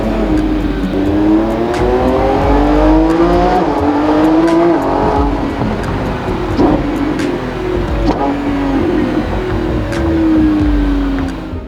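Widebody Lamborghini Revuelto engine revving loudly through its factory exhaust, a sustained rising and falling howl with harmonic sweeps, close and strong throughout with no talk.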